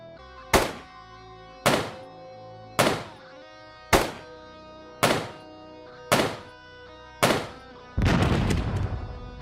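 A pipe strikes an object in the video game Quasimorph: seven loud, evenly spaced heavy thunks about a second apart, followed by a sustained noisy rumbling burst.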